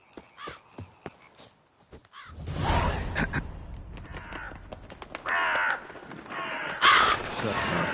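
Crows caw in The Witcher 3, a few harsh calls mixed with horse hooves and whinnies amid game sounds, fairly loud, with brief talk.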